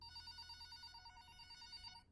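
A telephone rings in the VR game FrOgZ Nano on a Meta Quest 3, a steady electronic ring with bright repeated tones that carries on alone and unbroken for about two seconds.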